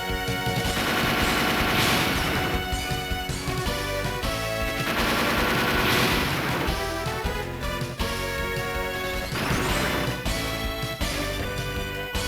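Loud, dense bursts of rapid gunfire in the Game Boy Advance game Zoids: Legacy, hammering on continuously for about twelve seconds with no pause and no talking.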